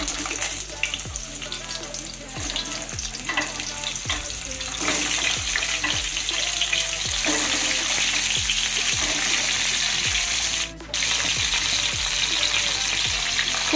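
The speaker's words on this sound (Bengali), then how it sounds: "তেল কিন্তু আমাদের খুব ভালো মতো গরম হয়ে গেছে এবার আমি এই পটলগুলো দিয়ে দেব" Pointed gourd (potol) fries in well-heated oil in a wok, a continuous close sizzle with repeated scraping strokes of a stirring spatula at a regular pace.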